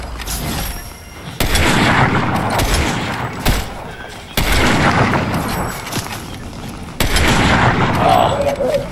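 Bursts of gunfire from the video game Fortnite come in quick volleys, loud and close, separated by short pauses, with a busy game mix behind them.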